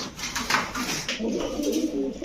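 Large Baghdadi and tiger grizzle pigeons coo in low, rolling phrases close by, mixed with clattering and a person talking.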